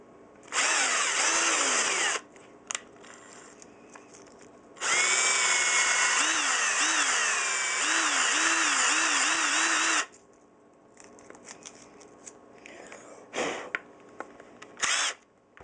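A power drill spinning R/C car dog bones whirs loudly in two long sustained bursts, pitch wavering under load, with brief clicks and clattering handling noises between.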